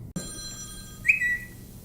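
A phone chimes with a short electronic ringtone for an incoming ReminX call, one brief tone following a click, fairly close and with no talking.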